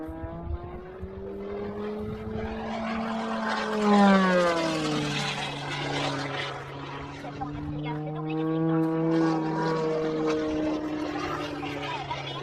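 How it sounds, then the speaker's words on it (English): A stunt plane dives toward the ground, its engine a loud, sustained drone whose pitch bends downward and then climbs again over about twelve seconds. "This stunt plane heading straight towards the ground."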